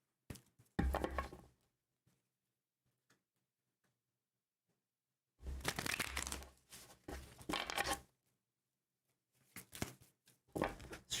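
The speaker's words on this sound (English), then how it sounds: "Shuffling the cards here" Tarot cards are shuffled in several quick riffling bursts separated by silence, close and fairly quiet, with soft papery flutters.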